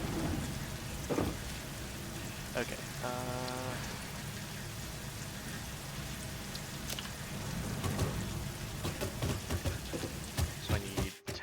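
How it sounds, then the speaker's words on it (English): Steady rain falls with low rumbles of thunder in the video game Satisfactory, a continuous wash of rainfall with a brief spoken word over it. "I love the rain in this game."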